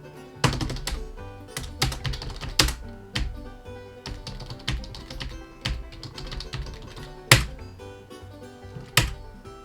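Someone types on a computer keyboard while editing the GRUB configuration file, producing close, irregular clacking keystrokes with occasional louder thumps from heavier key presses.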